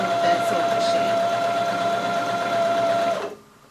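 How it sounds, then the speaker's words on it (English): A large sewing machine stitches fabric with a steady, loud mechanical whir and a constant hum, running for about three seconds before it stops abruptly. "I'm still trying to get used to this giant sewing machine."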